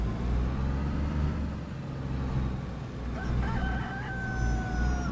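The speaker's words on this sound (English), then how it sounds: "I want to go find that chicken." In the video game DayZ, a rooster crows from a distance in the second half, its drawn-out call rising over the steady low rumble of a driving vehicle, with no speech.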